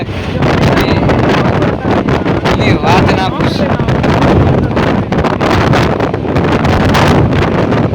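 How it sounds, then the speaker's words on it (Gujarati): Strong wind roaring and buffeting the microphone nonstop, loud and rough, with someone speaking briefly underneath, near Dwarka by the sea. "સખત એવો પવન છે"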